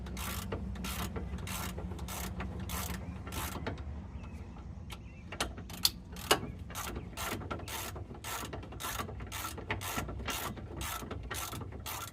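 Extendable ratchet clicking while bolts are turned during a rear shock install on a Chevy Trailblazer, regular bursts of rapid pawl clicks repeating throughout with brief pauses, close and moderately quiet.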